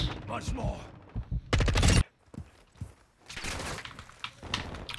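Gunfire in Call of Duty Modern Warfare II, with loud bursts of rapid shots and single cracks scattered across the stretch, including one dense volley, mixed with game noise and a voice talking.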